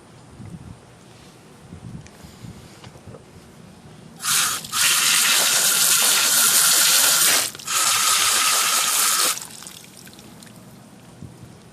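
Tap water gushing loudly while wild ginseng roots are washed, starting after a quiet stretch, running for about five seconds with a short break, then stopping.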